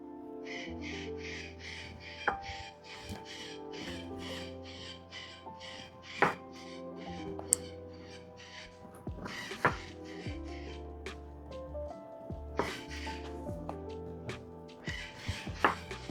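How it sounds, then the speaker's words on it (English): A knife cuts semi-firm tofu into half-inch slices on a board, making soft, repeated taps and occasional sharper knocks under steady background music. "I'm just going to cut it in like half-inch slices"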